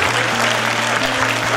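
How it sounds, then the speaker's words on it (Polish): Steady applause fills a room at a Women's Day event in Komarówka Podlaska, a brief, even burst of clapping heard close with no voices. "wielkie brawa"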